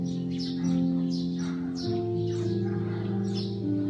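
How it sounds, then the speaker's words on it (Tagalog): Busy chirping of house sparrows repeats in quick bursts over a steady tonal hum, moderately loud and fairly close. "Tingnan niyo yung mga maya sa paligid."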